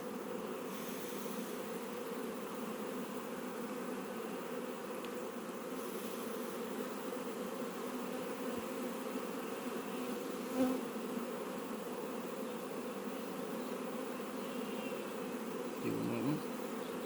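Honeybee colony swarming from a hive, a dense continuous buzzing hum, steady and close with a few faint knocks, no voices.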